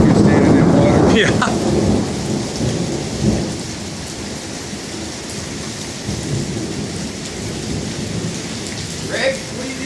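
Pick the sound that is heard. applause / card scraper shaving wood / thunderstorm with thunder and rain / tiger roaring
thunderstorm with thunder and rain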